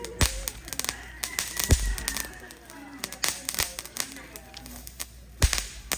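Sharp firecracker bangs pop irregularly at varying distances, some loud and close, over a background of distant crackling and people talking, during New Year celebrations.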